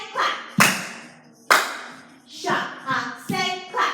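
Young children in a jazz dance class clap hands together in time, a handful of sharp group claps spaced through a dance routine with shuffling and movement between them.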